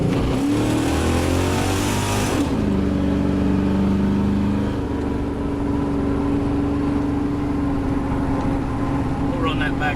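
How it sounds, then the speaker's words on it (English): A 1989 Chevy truck engine running while driving, its pitch rising and dropping as gears shift, loud and steady throughout with someone talking over it. "Truck like this, I like to shift gears just because you can get it all the, you know, everything where you want it,"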